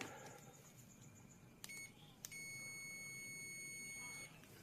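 Two short electronic beeps from a digital multimeter, then a longer continuous high-pitched continuity buzzer tone holds for about two seconds before cutting off, over quiet room noise.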